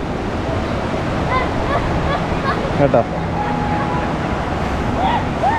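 Rushing water roars steadily at Vazhachal waterfall in Kerala, a broad continuous wash with wind on the microphone, while a voice speaks briefly over it.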